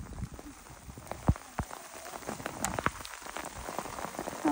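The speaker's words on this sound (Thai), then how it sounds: "เห็นฝนตกนะคะ" Rain falling outdoors during mushroom picking, a steady close patter of drops with scattered louder splats and no talk.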